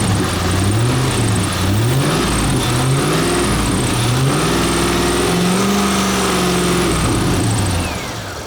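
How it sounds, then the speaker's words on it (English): A 2000 Chevrolet Corvette C5 LS1 V8 with 110,000 miles, mated to a six-speed manual, revs loudly and close up, its pitch climbing and falling in repeated throttle blips, with no talking. "Go ahead and rev it up here."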